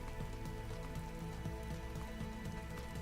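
Steady rain in the game Vintage Story, a dense, even patter of drops that continues without a break under a faint crackle, quiet and unchanging throughout.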